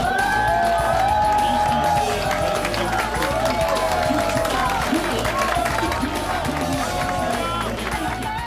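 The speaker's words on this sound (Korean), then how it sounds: "박수로." A crowd at a presidential campaign event breaks into loud, sustained applause mixed with cheers and shouts, with voices calling out over the clapping.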